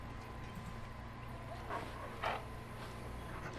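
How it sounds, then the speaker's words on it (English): A small dog in Dragon Age: Origins gives a couple of short, excited barks that sit faintly over a steady game background drone. "He bounces around you, barking excitedly."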